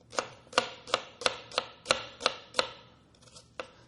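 A knife chops half of a medium onion on a board with about eight evenly spaced, crisp knocks, then one more after a short pause, close and clear with no talk.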